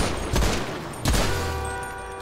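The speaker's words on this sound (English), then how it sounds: "Why are we being shot at?" Gunfire in the GTA RP video game: two loud, sharp shots spaced about a second apart, close by, each followed by a decaying ring over a steady game background.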